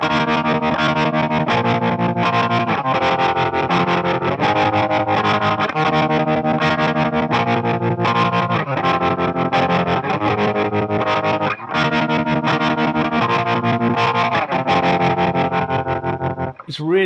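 An electric guitar runs through an Electro-Harmonix Nano Pulsar variable-shape stereo tremolo pedal, set for a tone in the style of a particular song. Loud, slightly distorted chords pulse in fast, steady, even repeats throughout, with no talking.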